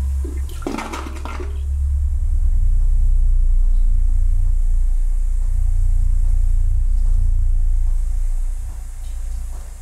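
Thunder in the horror game Baby Blues rolls as a loud, deep rumble that swells after a brief crackle near the start and lingers for several seconds before easing slightly.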